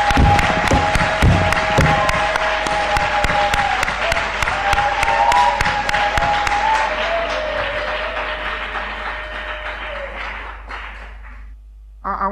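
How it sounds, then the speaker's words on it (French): A church congregation claps for the Lord in loud, sustained applause at close range, many hands with distinct sharp claps, gradually thinning and fading out over about twelve seconds with a sustained tone underneath. "Clap for the Lord. Applaudissez pour le Seigneur."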